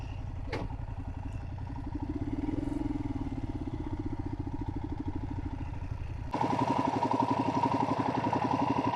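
A motorcycle on a moto-camping trip rolls forward in first gear; its engine putters at a steady, even pulse that rises slightly, then grows louder and rougher as throttle is added near the end.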